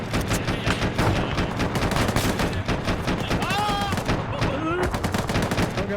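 Game combat in ArmA or DCS with missiles inbound, dense rapid gunfire and bursts of automatic fire, loud and continuous, with whistling tones sliding through the middle and a voice talking briefly underneath.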